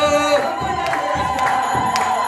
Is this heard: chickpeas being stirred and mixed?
no